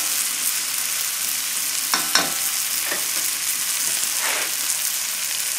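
Tilapia fries in a pan with a continuous hissing sizzle, heard close and alone, with a few brief crackles and spatters.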